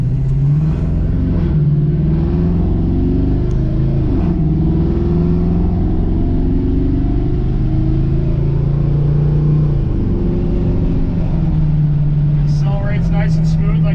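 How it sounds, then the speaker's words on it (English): A 1972 Chevy C10 with a 4.8 liter V8 and custom dual exhaust drones steadily while cruising near 57 mph, a continuous low rumble with slight pitch shifts under occasional talk. "Has a great V8 sound coming out of the custom dual exhaust setup."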